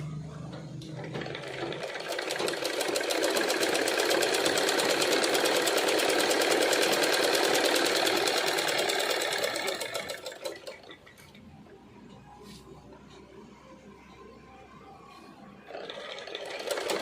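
A sewing machine runs fast and continuously, stitching the lining and silk skirt waistband together with a dense mechanical rattle for about ten seconds. It then stops, leaving quiet handling sounds before briefly starting again.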